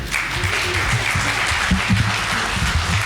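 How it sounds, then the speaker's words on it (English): A standing crowd at a community gathering hosted for a Prime Minister claps steadily, a dense, loud patter of many hands that continues evenly throughout. "and start clapping."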